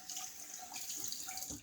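Tap water runs steadily while a shaving tub is rinsed at a sink, a continuous close hiss and splash with a few brief drips, no talking.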